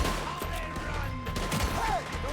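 Rapid gunfire crackles in a frantic shootout in Red Dead Redemption 2, dense overlapping shots under music and shouting voices.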